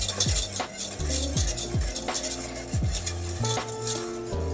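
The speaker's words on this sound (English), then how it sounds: "As this batter cooks, you'll start to feel a little resistance with your whisk as it thickens up." A whisk scrapes and clinks steadily against a pot of cooking egg-based ice cream batter, a busy, close metallic stirring that carries on without pause.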